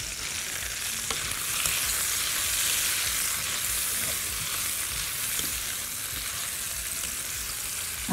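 Meat frying with onion in a pan for a potato and meat tray bake gives a steady, dense sizzle that holds loud and close throughout, with no talking over it.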